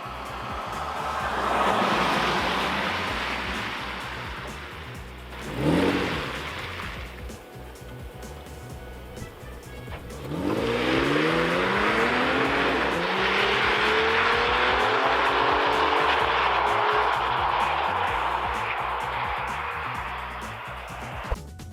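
A Porsche Cayenne S E-Hybrid with a 3.0 V6 petrol engine and electric motor, 416 hp, in sport mode: an engine surges through rising gears, a brief rev then a long sustained loud acceleration with stepped pitch climbs, heard from inside.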